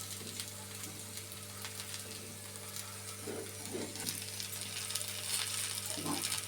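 Cauliflower and onion slices shallow-fry in a pan with a steady, soft sizzle. Occasional scrapes and thuds sound as the pieces are turned, and no one speaks.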